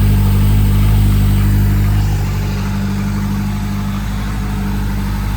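A Lotus Elan engine running at a steady idle, loud and close, with a deep continuous rumble, a slight dip in level after the first couple of seconds, and no talking.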